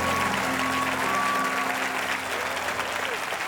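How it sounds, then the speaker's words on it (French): A Christmas symphony concert audience gives the orchestra a sustained burst of applause. Dense clapping fills the hall at an even level throughout, and a faint voice is briefly audible under it. "Est-ce qu'on peut les applaudir encore une fois?"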